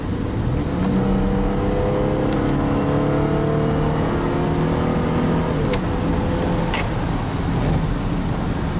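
A GM V6 engine accelerates at wide open throttle, its drone climbing steadily in pitch through several long gear-like sweeps over about eight seconds, heard from inside the car, loud and continuous.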